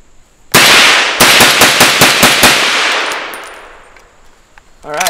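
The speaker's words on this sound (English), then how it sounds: "let's load it up and shoot it fast" An Auto Ordnance M1 Carbine rifle fires about eight loud, sharp shots in quick succession, each ringing out before a long echoing decay fades away.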